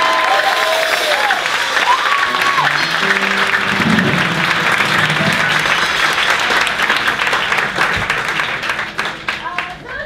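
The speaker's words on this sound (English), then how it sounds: "a round of applause for Sheldon." Loud, sustained applause from a theater audience at a live comedy show, dense steady clapping with some cheering that tapers off near the end.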